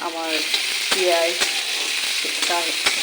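Onion and green chili fry in hot oil in a wok, a steady close sizzle broken by a few sharp stirring scrapes and clatters.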